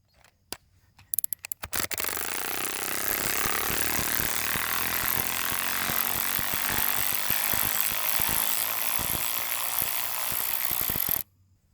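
A KIMO 12V cordless 3/8-inch ratchet whirs loudly after a few brief clicks as it works a bolt out, a continuous buzzing run lasting several seconds before stopping abruptly.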